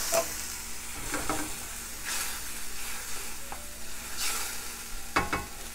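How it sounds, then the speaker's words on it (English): White wine hits a hot pan of garlic while making swordfish Livornese, giving a continuous bubbling sizzle with occasional spoon scrapes and brief clinks, close and fairly loud. "And we're gonna deglaze. A little bit of white wine."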